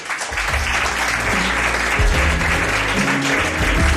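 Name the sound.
audience applause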